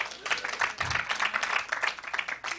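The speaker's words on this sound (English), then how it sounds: "a round of applause for this gentleman" Lively applause from a comedy club audience during a stand-up set, a bursty, uneven stretch of many people clapping at moderate volume, with a low thump partway through.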